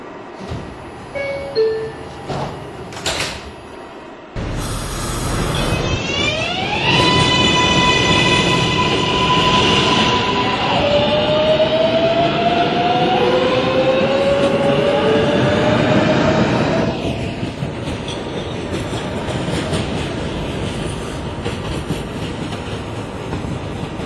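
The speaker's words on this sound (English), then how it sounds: "This is a new Lots Avenue bound four train." A New York R142A subway train on the 4 line starts up and accelerates, its motor whining in rising tones over rumbling, clattering wheels, then settles into a steady roar.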